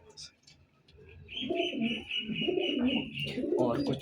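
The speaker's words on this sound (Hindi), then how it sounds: "ये सारे जोड़ों वाले कबूतर हैं" Paired pigeons in a breeder's loft coo in low, soft, rolling calls close by, with a faint higher chirp running across and someone talking over them.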